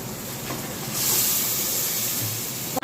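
Water poured into a hot pan of semolina sets off a steady hissing steam rush that swells after a moment and holds, ending with a faint clunk.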